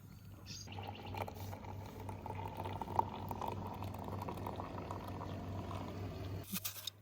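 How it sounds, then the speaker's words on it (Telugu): Chai with ginger boiling in a pot at a campsite in Litchfield National Park, a steady close bubbling and simmering throughout with a faint clink near the end. "చాయ్ మొత్తం మంచి అల్లం వేసి పెడదామని మొత్తం రబ్ చేసుకుని వచ్చాము."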